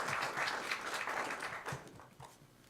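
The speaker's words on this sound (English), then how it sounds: "Please give him a big round of applause" A lecture audience gives a round of applause as a guest comes onto the stage, a brisk burst of clapping that slowly thins and fades over a few seconds.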